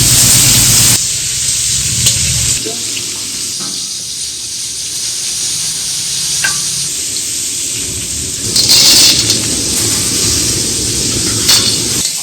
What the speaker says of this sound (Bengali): এবার হচ্ছে ঝিঙে আর পটলটা ভেজে নিয়ে হবে